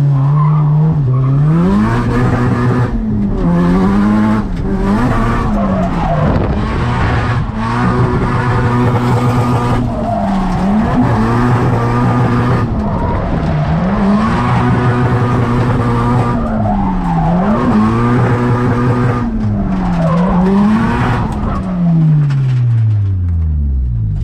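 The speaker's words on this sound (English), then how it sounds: "So this is kind of the first like real street drift event I've ever done." A car at a street drift event on a road over a dormant volcano drifts continuously, its engine revving and falling in repeated cycles beneath loud, sustained tire squeal, close and intense throughout.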